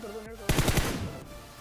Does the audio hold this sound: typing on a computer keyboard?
no